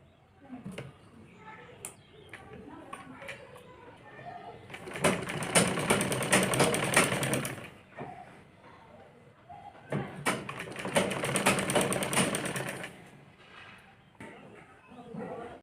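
A sewing machine stitches a double-folded fabric frill strip in two long whirring runs separated by a quiet pause, with a person talking softly in the gaps.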